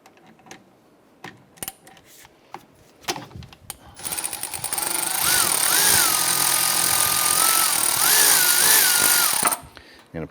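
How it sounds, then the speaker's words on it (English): A 14mm socket works loose the brake flex line banjo bolt on a 2009-2015 Honda Pilot rear caliper: scattered metallic clicks and taps, then a loud, sustained power-tool whir with a warbling pitch for about five seconds before cutting off. "What we're going to do is going to remove the flex line bolt right here."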